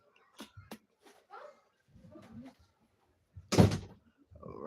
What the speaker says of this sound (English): Yo, Sean, come close my door